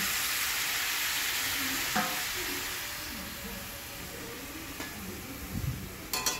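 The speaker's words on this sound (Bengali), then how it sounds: "তো সবজিটা আমি নেড়ে নিয়েছি।" Vegetables are stir-fried in a pan over a cumin tempering with ginger-cumin paste, producing a loud, continuous hissing sizzle that eases slightly over time. A few spatula knocks are heard near the end.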